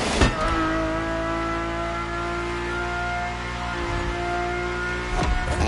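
Engine of a car in a PS4 driving game heard from inside the cabin: a steady, humming drone with clear harmonic tones that holds at a near-constant pitch, with brief swells at the start and end.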